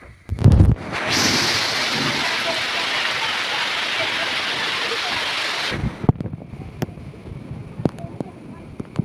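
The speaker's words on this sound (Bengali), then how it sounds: "আসলে বৃষ্টি নেমে গেছে, এই মুহূর্তে ভিডিও ধারণ করা সম্ভব না।" Heavy rain pours down outdoors in a steady, loud hiss. It starts suddenly after a few close thumps, holds for about five seconds, then cuts off to quieter background with scattered knocks.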